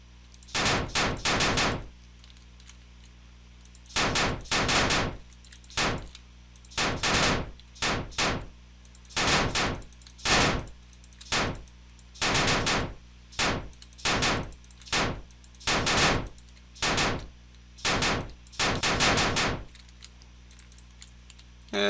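An AI-controlled turret in a homemade video game fires in repeated bursts of rapid synthetic gunshots, loud and close, separated by short silences, with no talk.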